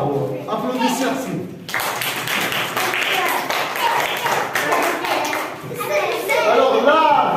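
Young children in a French primary classroom clap together, brisk uneven clapping mixed with a teacher's voice and children's chatter, loud and close.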